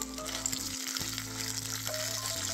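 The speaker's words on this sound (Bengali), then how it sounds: "এবার এইটা একটু আমি ফ্রাই করে নেব।" Grated ginger frying in a pan with chopped garlic, a constant close sizzle with faint stirring underneath and steady tonal hum running through it.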